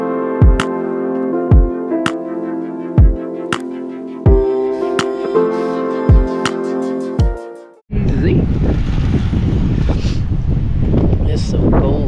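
A rhythmic tonal passage with regular sharp beats cuts off abruptly, then harsh wind roars and buffets the microphone while cycling for the last few seconds.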